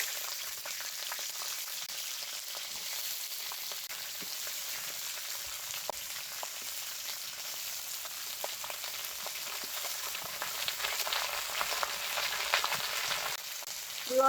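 Green beans and carrots fry in hot oil with burnt nigella seeds for a vegetarian dish, giving a steady, close crackling sizzle with scattered pops that holds throughout with no talk.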